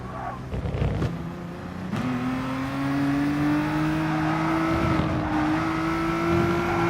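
A race car engine revs in Gran Turismo Sport on the last lap of a race: a steady, loud whining drone climbs slowly in pitch after a shift, with a few brief bumps and swells along the way.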